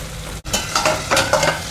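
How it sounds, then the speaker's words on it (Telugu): Oil sizzling and frying in a pan of tomato egg fry, with stirring scrapes and bursts of crackle after a brief pause, close and loud with no talk. "ఎగ్ ఇలా బాయిల్ అవుతుంది."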